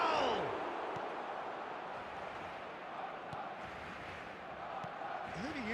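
Steady stadium crowd roar at an El Clasico match between Barcelona and Real Madrid in eFootball, a continuous dense wash of voices holding level throughout, with a few faint thuds and whistle-like tones over it.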